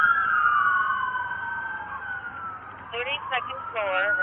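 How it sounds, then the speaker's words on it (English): Police car sirens wail in a steady rising and falling tone at a hotel casino shooting scene, loud and near, with a second siren pattern joining near the end. "All right, you turn your sirens off"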